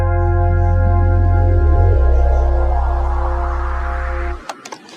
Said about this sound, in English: the full intro with the riser, the bass, and the chord would sound something like this